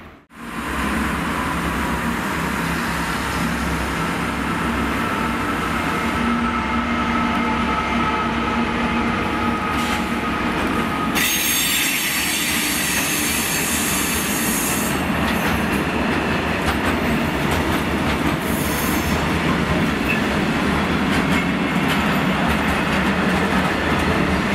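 A train runs steadily through Cardiff Central station, with continuous loud rumble, rail clatter and brief higher squeals over about twenty-five seconds and no talk.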